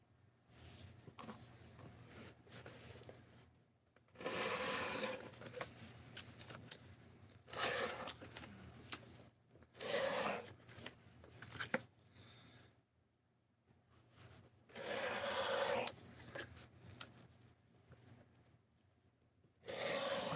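Knife edge drawn repeatedly across a sharpening stone with a burr on the apex, producing bursts of dry rasping strokes of a few seconds each, separated by short pauses, close and moderately loud.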